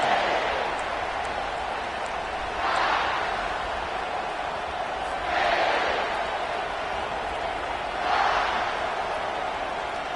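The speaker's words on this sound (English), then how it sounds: "This crowd trying to show them what it's going to be like all day in this house." A football stadium crowd roars in repeated swells during a game, a dense wash of cheering that rises and falls about every three seconds.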